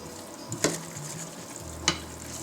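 Beef stirred while it fries in a pan, a soft low sizzle with two sharp scraping clicks of the utensil against the pan.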